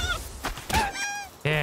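Chicken-like creatures in the video game Palworld let out short honking, clucking calls, a few brief close cries with a soft thump between them.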